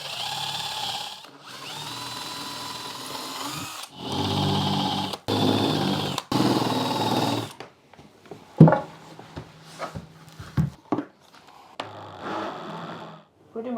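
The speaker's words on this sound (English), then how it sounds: "Easy to drill." A power drill whirs in several sustained bursts, loud and close, pre-drilling holes while fitting out a boat, followed by quieter clicks, knocks and brief speech.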